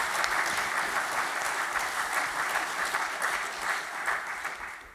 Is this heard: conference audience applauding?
yes